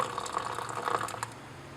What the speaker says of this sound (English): add boiling water until you have around 130 ml